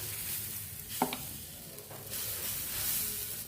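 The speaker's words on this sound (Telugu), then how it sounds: "నేను పిండి అనేది మొత్తం కూడా ఇలా కలుపుకోవాలండి. మనం ఎప్పుడు వేసినా కూడా ఇలా కలుపుకుంటూ ఉండాలి." Moong dal pesarattu batter is stirred with a few soft scraping strokes and a brief clink, quiet and close, against a faint background hiss.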